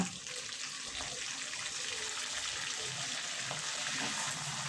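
Chicken with ginger-garlic paste frying in a pan while being stirred, giving a steady, close sizzle with a watery hiss throughout and no talking.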